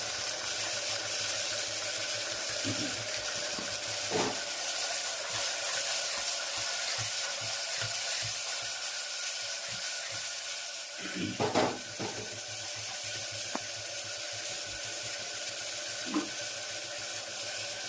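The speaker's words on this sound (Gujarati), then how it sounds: "મસ્ત મજાનો વઘાર થઈ ગયો છે, જોઈ શકો છો." Spiny gourd (kantola) tempering in hot oil, giving a steady close sizzle with a few brief clinks and clatters of utensils scattered through, and no talking.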